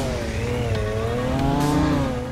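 Cars driving in the PS4 snow simulator game Snow Beta, a loud steady engine drone with rising and falling pitch as vehicles pass close by, alone without talk.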